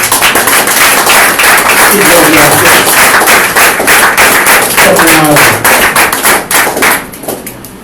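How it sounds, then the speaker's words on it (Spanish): A church congregation claps loudly and continuously for several seconds, a dense, crackling burst of many hands that thins out and fades near the end. "Dele a Dios un aplauso."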